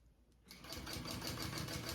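A sewing machine starts up and stitches a crossbody bag strap, making a steady, rapid mechanical whir with a regular needle rhythm. It runs continuously at close range without speech.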